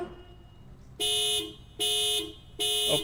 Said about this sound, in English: that's a car alarm